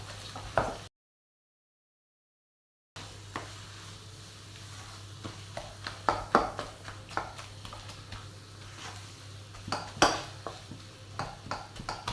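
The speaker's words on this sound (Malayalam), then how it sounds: "നന്നായി മിക്സ് ചെയ്യുക" A spoon scrapes and clinks against a pot while a potato bhaji mixture is stirred, giving irregular metallic taps and knocks over a low steady hum, with a short silent gap near the start.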